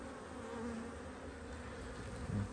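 A honeybee swarm hums steadily at close range during a hive inspection a month after it was hived, a continuous insect drone with no talking.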